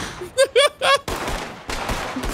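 A Red Dead Redemption 2 roleplay shootout on the streets of Saint Denis: a voice shouts briefly, then two sharp, loud gunshot bursts crack out in quick succession.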